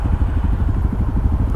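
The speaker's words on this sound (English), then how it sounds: "I hate straight pipe exhaust." A motorcycle with a straight pipe exhaust rumbles nearby in a fast, pulsing low burble, loud and continuous with rapid regular firing pulses and a slight clattering edge.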